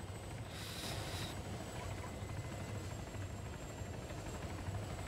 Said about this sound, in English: He's taking my helicopter.